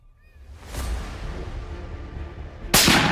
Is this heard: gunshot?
yes